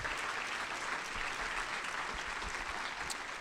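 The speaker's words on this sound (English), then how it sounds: "If we could please have a round of applause for all of our intriguing speakers today." Steady applause from an audience at a business breakfast event honoring intriguing people, a dense continuous patter of many hands clapping at moderate distance, unbroken and even throughout.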